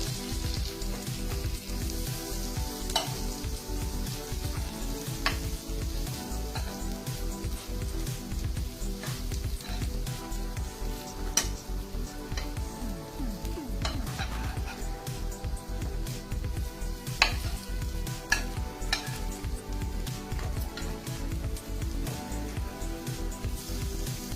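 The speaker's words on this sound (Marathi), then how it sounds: "एका बाजूने पाच मिनटं दुसऱ्या बाजूने पाच मिनटं अशा पद्धतीने वांगी फ्राय करून घेऊया" Brinjal slices shallow-frying in a pan for crispy Marathi-style vangyache kaap, a steady dense crackling sizzle with scattered pops, close and continuous throughout.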